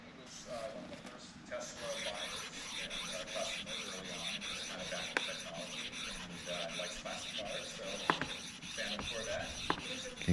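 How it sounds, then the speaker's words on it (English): A sharpening stone is trued by rubbing a Nagura stone across it, a steady back-and-forth rasping scrape repeating in an even rhythm, close and fairly quiet, with a voice talking over it. "So works pretty well to true the sharpening stone back up."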